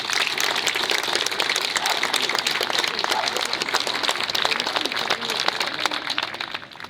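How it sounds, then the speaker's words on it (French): Sustained applause from a crowd honoring the workers who rebuilt a railway viaduct after Storm Alex, dense steady clapping filling the whole stretch at even loudness. "on peut applaudir ces ouvriers"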